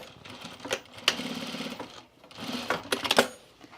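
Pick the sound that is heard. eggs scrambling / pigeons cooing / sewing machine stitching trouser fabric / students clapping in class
sewing machine stitching trouser fabric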